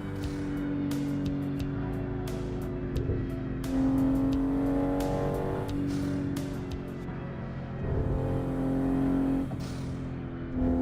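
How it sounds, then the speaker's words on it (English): In a driving simulator game, cars rush past one after another with a steady roar of engines and tire noise, rising and falling tones as each vehicle speeds by, continuous and fairly loud throughout. "cars are just blowing through the road there"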